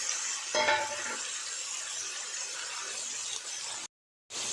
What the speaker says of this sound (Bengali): দিয়ে দেবো চিকেনটা ম্যারিনেট করা চিকেনটা